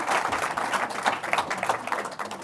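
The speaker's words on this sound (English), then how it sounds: "A big round of applause for the panel" An audience claps for a panel at a conference on international tax, producing a dense, steady patter of many hands that continues at an even level throughout.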